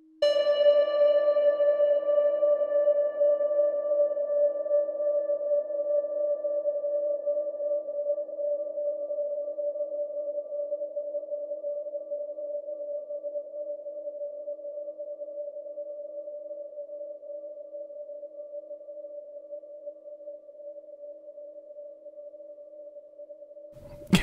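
A single sustained synth note rings through a Death by Audio ROOMS reverb pedal set to maximum, holding a steady pure tone that decays very slowly over more than twenty seconds, alone and without talk.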